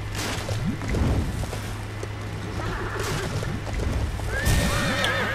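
A horse whinnies a couple of times over a busy LEGO Lord of the Rings game soundscape with water and clopping hooves, a rising neigh standing out near the end.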